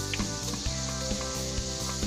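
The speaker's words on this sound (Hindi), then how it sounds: "पहले ऑयल को थोड़ा गर्म होने देंगे, उसके बाद हम इसमें प्याज ऐड कर देंगे।" Finely chopped onion sizzles in hot oil in a pan as the start of an aloo palak dish, a steady, fairly quiet crackle with no one talking.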